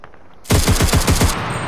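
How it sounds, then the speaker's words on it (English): Rapid automatic gunfire erupts in the online shooter game CRSED, a loud burst of about eight evenly spaced shots after a near-silent start. "That boy's shooting at me."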